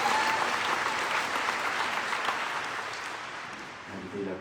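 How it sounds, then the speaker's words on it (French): A church congregation applauds loudly at Sunday Mass, a dense sustained burst of clapping that fades slightly toward the end, with a voice rising faintly at the close. "on les acclame très fort"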